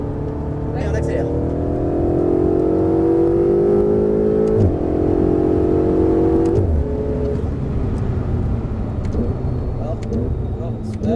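Ferrari 488 accelerating hard on the Circuit du Castellet, a loud interior engine note climbing through the revs with gear changes, a brief dip before pulling again, with people talking over the engine throughout.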